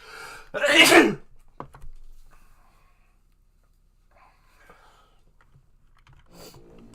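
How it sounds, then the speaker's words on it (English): A single loud, close sneeze with a sharp intake and burst, followed by faint clicks and light rustling, then a short breathy sound at the end. "I'm gonna sneeze"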